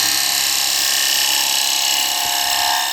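A bowl gouge cuts a wooden bowl spinning on a woodturning lathe, producing a loud, continuous hissing scrape that holds steady throughout.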